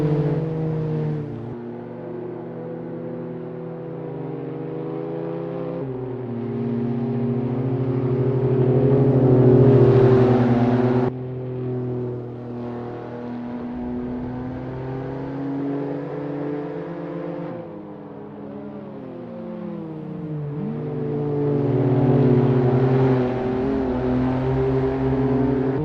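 Citroen C1 race cars in Assetto Corsa at Oulton Park hold a steady buzzing engine note that swells and eases with the throttle, with a quick burst of downshifts and blips late on before the revs climb again.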